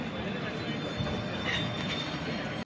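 Alappuzha–Kollam MEMU train at a station platform, a steady loud rumble of railcars with faint wheel squeal, and people talking underneath.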